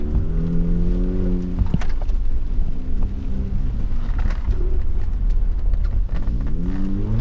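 A BAIC BJ80 G800 SUV, a Chinese Brabus-styled off-roader, drives in circles, its engine note rising and falling in steady harmonic sweeps alongside tire and wind noise, close and continuous throughout.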